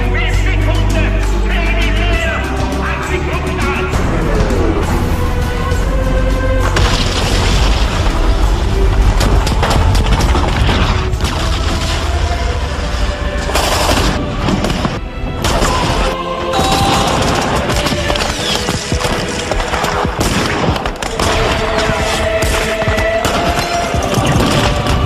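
Dense barrage of booming ballistic missile explosions and rapid gunfire, loud and continuous, with crashing impacts layered throughout and no voices.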